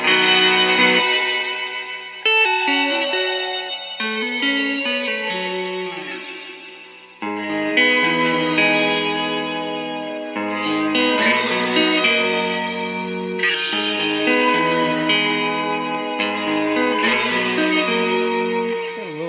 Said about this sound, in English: Got a little bit of that classic pog sound, like that.